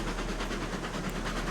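A locomotive runs steadily in the train game Railroads Online, a continuous broadband rumble and hiss with faint rhythmic rail clatter, fairly quiet and unbroken.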